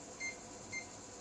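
A floppy drive being aligned gives two short, faint electronic beeps about half a second apart over a quiet background hum.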